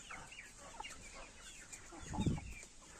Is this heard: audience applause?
no